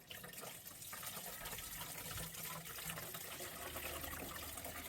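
Rain-X windshield treatment spills while being poured, giving a faint, steady trickle and splash of liquid for several seconds, with no voices.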